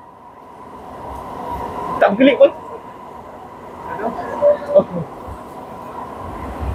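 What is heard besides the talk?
MRT train on Putrajaya Line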